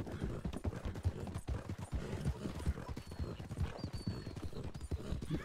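A horse in a video game clops its hooves in a quick, uneven rhythm with a brief whinny, quiet and continuous under faint background noise.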